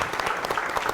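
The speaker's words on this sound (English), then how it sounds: "I've a round of applause for everybody" Audience applause at a Democracy Day gathering, a steady dense wash of many hands clapping together through the whole short moment, with no voices standing out.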